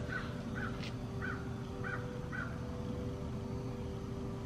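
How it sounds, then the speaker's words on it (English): Several crows cawing outdoors in a regular series of short, hoarse calls spaced about half a second apart, fairly distant over a steady background hum. "if you hear the birds going crazy, I'm sorry. They're literally going crazy. Like, they keep like squawking."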